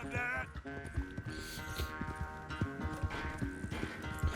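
A horse gallops with steady hoofbeat clip-clops and whinnies in Red Dead Redemption 2, loud and close over tonal in-game background sound throughout.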